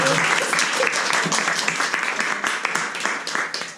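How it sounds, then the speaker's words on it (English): Audience applause at a Service Design Drinks meetup in Madrid, a burst of brisk clapping from a modest crowd, strong at first and gradually tapering, with individual claps becoming distinct near the end. "just a big round for applause for all of you."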